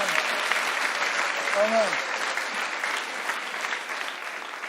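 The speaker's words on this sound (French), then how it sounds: "Applaudissez pour la parole." Congregation applauding during a church sermon, a steady wash of many hands clapping together, with a single voice speaking briefly over it.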